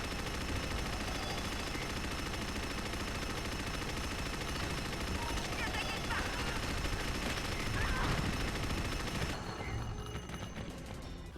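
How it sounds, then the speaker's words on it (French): Rapid, sustained minigun fire in Unreal Tournament on PC, a continuous dense roar like a rotary gun spinning, with game effects layered in and a drop near the end. "Le minigun est une mitrailleuse très efficace."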